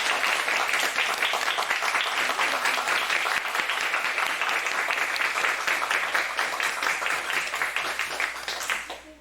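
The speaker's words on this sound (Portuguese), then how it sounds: "pedir palmas muito fortes" An audience at an academic talk on mental health and university life claps loudly and continuously, a thick, sustained roar of many hands that thins out and fades over the final second.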